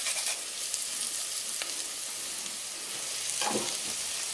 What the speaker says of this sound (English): as that curry cooks slowly in that low flame there